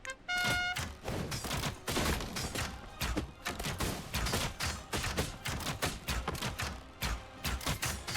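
Rapid volleys of in-game gunfire and thuds from a dwarf run in the card-game auto-battler Commander Quest, dense repeated bursts with a brief tonal chime near the start, loud and continuous with no talk.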